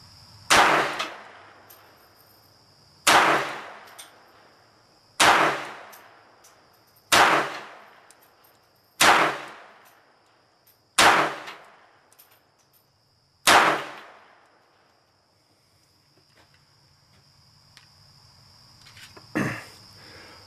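Walther PPK pistol fired on a shooting range: seven sharp, loud shots spaced about two seconds apart, each with a ringing decay, then a pause and a fainter final bang.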